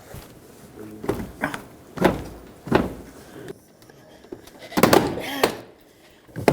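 Several sharp plastic pops and thunks in irregular bursts, close by, as door panel clips snap loose on a Dodge Grand Caravan, with brief talking between them.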